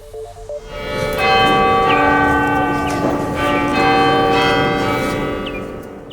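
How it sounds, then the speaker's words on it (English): The Cape Town City Hall clock bell rings out loud and near, several sustained tolls with long shimmering overtones overlapping as each strike decays. "that is the sound of the Cape Town City Hall clock for the first time in 15 years"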